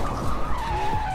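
A car drifts in the Roblox racing game Drift Paradise, played with a steering wheel, giving a short burst of tyre squeal and skidding over a steady engine drone.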